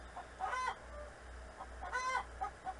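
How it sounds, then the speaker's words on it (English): Chickens cluck and call in two short bursts against a steady low background hum, with a few quieter clucks in between. "I apologize for the chickens in the background"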